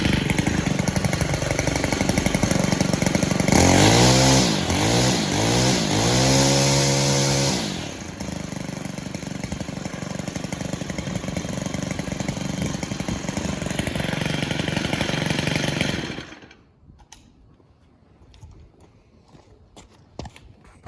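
A Stihl FS90R weed eater, freshly fitted with a new carburetor and valve adjustment, runs loud and steady with a few rising revving bursts early on before the engine cuts off, leaving near silence.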